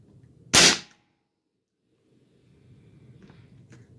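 A single sharp, loud shot from an Airforce Condor .25 air rifle firing a 36.2 grain NSA slug, a close crack with a quick decay, followed by quiet and faint low handling noises and soft breathing.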